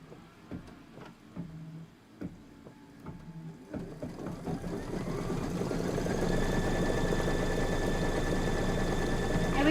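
A quilting sewing machine in need of servicing starts with a few sparse, uneven clicks and thumps, then spins up into a steady, louder mechanical whir with a rising motor hum that runs to the end.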